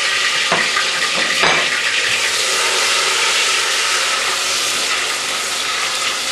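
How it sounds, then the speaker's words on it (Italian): Bell peppers fry in garlic-infused oil with a loud, steady, dense sizzle, a few utensil clicks near the start, and no talking. "E lasciamoli frigolare"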